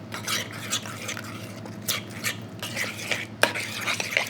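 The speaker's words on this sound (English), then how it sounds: "Give it a stir." A spoon stirs a cocktail sauce of mayonnaise, ketchup, lemon juice and sriracha in a bowl, giving close, soft repeated clinks and scrapes, with one sharper knock near the end and no talking.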